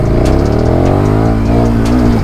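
A KTM 1290 Super Duke R twin-cylinder motorcycle roars loud and close, its engine pitch climbing steadily under hard acceleration with a brief dip at a gear change.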